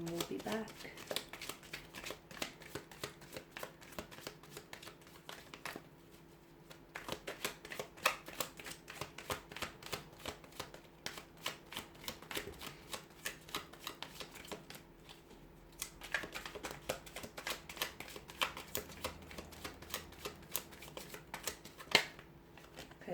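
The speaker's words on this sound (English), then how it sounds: "we'll go ahead and give the cards a shuffle" Tarot cards being shuffled by hand, a long run of quick, soft riffling and flicking clicks repeating close to the microphone, with a person's voice faintly present.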